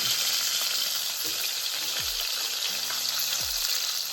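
A deer testicle fries in a pan, giving a steady, close sizzle that holds through the clip, with a couple of soft low thumps from the pan being handled. No one speaks.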